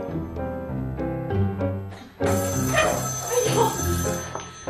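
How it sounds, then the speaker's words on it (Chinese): A telephone rings in a home in a Chinese urban drama, a bright repeating electronic ringtone pulsing in a steady rhythm, then fuller room noise as someone speaks over it. "哎，别，这不能接啊，这电话千万不能接。"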